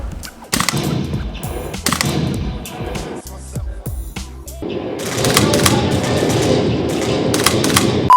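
FAMAS rifle fire during virtual army combat training, heard as loud, close bursts of rapid shots that stop and start. A short gap comes midway, then heavier continuous firing with sharp cracks.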